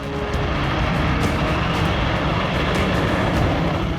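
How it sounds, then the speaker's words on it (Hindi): Polish MiG-29 and F-16 fighter jets flying over the Baltic Sea during a joint military exercise, a loud continuous engine roar and rushing drone that holds steady throughout with no pauses. "पोलैंड के MiG-29 और F-16 बाल्टिक सागर के ऊपर मंडरा रहे।"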